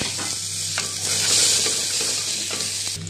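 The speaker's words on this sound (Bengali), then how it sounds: "দেখুন পেঁয়াজটা আমার লাল করে ভাজা হয়ে গেছে।" Finely chopped onion fries in a pan with tempered spices, a loud steady sizzle close at hand with scraping stirs breaking through now and then, and no voices.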